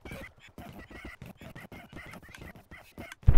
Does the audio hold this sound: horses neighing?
yes